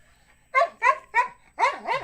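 Five sharp dog barks from the 1933 film The Invisible Man, arriving in a steady rhythm after a short quiet lead-in and loud and close in the soundtrack, with the last two running together.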